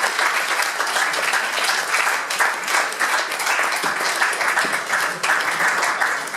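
Applause from an audience at a startup weekend event on stage in Riga, a dense, steady round of clapping that fills the whole stretch at full volume with no talk over it.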